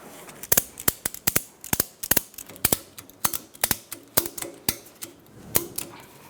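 A ratchet strap is cranked tight while replacing the front CV axle on a 2012-2017 Hyundai Accent 1.6L I4, giving a rapid series of sharp clicking ratchet bursts in quick rhythmic groups, close and crisp.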